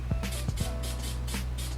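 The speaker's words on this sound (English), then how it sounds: "the paint looks really wet here because I'm spraying in areas that I know will dry firm and clear." A spray gun applies a medium coat of paint to a Corvette C8 engine cover, producing short repeated bursts of hissing atomized spray over a low steady hum, with no talking.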